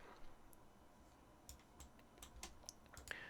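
Keystrokes on a computer keyboard while entering a slot name in Unreal Engine: a quiet, sparse run of separate clicks, irregular and close, with no talk.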